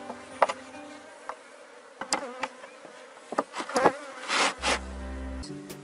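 An agitated honeybee swarm drones with a loud, steady buzz while a hive is being split, individual bees zipping close past, with occasional handling knocks and no talk.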